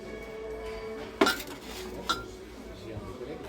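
Gold-coloured dessert spoons from a four-piece set clink as they are handled, two short, bright metallic chinks close by over a quiet shop background.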